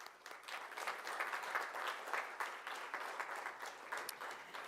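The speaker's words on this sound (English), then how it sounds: "Please give them a round of applause." Applause from the audience at a Jewish association policy conference in Budapest runs steadily for the whole stretch. It is a fairly soft, even wash of many hands clapping, with no voices over it.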